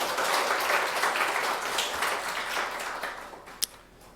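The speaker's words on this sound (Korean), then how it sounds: "우리 하나님께 감사와 영광의 박수 올려드리겠습니다." Congregation applause during a Sunday worship service in a Korean church, full clapping from many hands that swells early and slowly thins out, ending with a single sharp knock.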